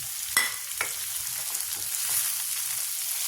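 Tomatoes fry with onions in a pan, a soft continuous sizzle with a couple of sharp clinks from stirring near the start.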